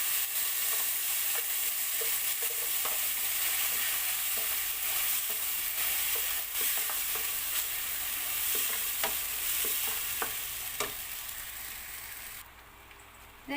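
Onion with ground masala paste frying in a pan for Goan fish curry, a dense, even sizzle running throughout with scattered scraping stir clicks, no voices.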